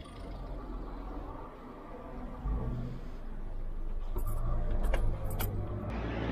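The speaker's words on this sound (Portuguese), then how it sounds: "E eu vou desligar o carro." A Volkswagen car's engine idles with a low rumble, then keys jingle and click as it is switched off, close by.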